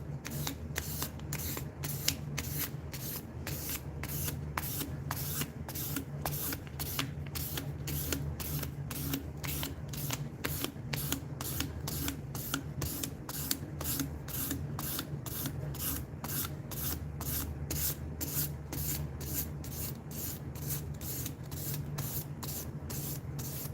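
Steady, rhythmic strokes of a knife blade across a 1000 grit whetstone, a close, even scraping repeated many times without pause and no talking.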